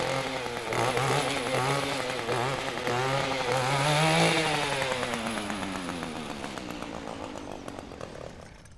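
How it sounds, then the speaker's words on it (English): A gas-powered weed eater (string trimmer) runs steadily nearby in a backyard, a loud buzzing whine that swells and slowly fades, with no voices over it. "Hold for weed eater"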